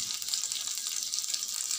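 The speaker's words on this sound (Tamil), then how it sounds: "இது லைட் ப்ரௌன் கலரில் வர வரைக்கும் கொஞ்சம் எண்ணெயில் அப்படி கொஞ்சம் ஃப்ரை ஆகட்டும்." Small onions fry in oil with a steady, soft hiss and crackle, close and continuous, with no talking.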